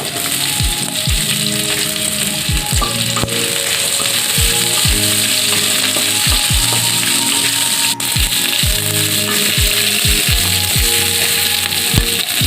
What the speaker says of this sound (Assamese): এইখিনি ভাজি ল'ম 2 মিনিট।